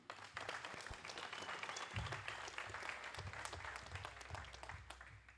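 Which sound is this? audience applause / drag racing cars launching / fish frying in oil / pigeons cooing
audience applause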